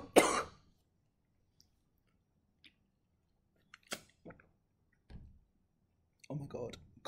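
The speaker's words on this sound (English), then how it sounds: "Coughing fit." A person coughs in a quick harsh burst, then several scattered shorter coughs and throat sounds follow in a quiet room, close and fairly loud against silence.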